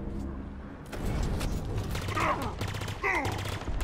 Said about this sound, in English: It looks like the plasma rifle works really well against their shields